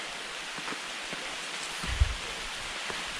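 Steady, soft rain hiss with scattered drops pattering close by, continuous throughout with no voices.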